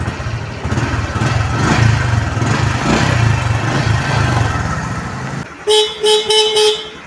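A Honda XRM125 Fi motorcycle engine idles and rumbles steadily, then its horn honks three short times, loud and close, as the engine goes quiet.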